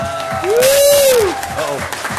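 Applause and cheering from the audience at a city council meeting honoring a girls' U10 softball all-star team, a steady clapping crowd with a voice or whistle rising above it across the whole stretch.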